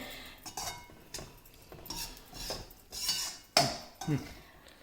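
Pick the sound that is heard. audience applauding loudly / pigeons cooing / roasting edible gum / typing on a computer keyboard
roasting edible gum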